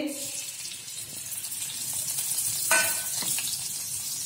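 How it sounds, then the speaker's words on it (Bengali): Onion fries in a small amount of mustard oil, a steady close hiss of sizzling that swells slightly as it is stirred, with a brief clatter partway through and no talking. "সর্ষের তেল দিয়ে নিচ্ছি, যেহেতু আমার অল্পই দিচ্ছি। অল্প পেঁয়াজ দিয়ে দিচ্ছি"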